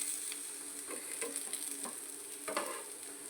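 A potato sandwich with snake gourd sizzles and fries in a pan, a soft, steady crackle with a few light scraping stirs near the end.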